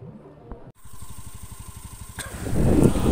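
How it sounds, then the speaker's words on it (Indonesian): A Honda Beat FI motorcycle with a replaced ignition coil sputters unevenly, its rapid engine pulses chugging steadily nearby, then growing louder and rougher toward the end, with no talk over it. "Intinya motor ini berbet"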